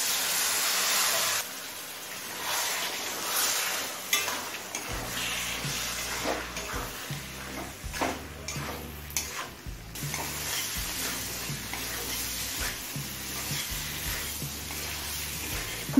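Water added to a pan of chicken frying with figs and potatoes over medium flame: a brief pour and splash gives way to loud, steady sizzling with occasional stirring scrapes throughout.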